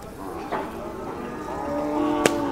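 A Khillar bull at a crowded cattle market gives a drawn-out, rising moo that swells in the latter half, with background crowd noise and a brief sharp knock near the end.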